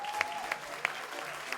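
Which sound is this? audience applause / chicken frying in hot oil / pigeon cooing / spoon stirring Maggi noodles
audience applause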